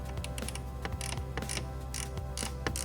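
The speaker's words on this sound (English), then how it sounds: "Ratcheting wrench." A ratcheting wrench tightens bolts on a 2009-2014 Acura TL side view mirror, giving close, steady rapid clicking in quick bursts with brief pauses, heard alone without talk.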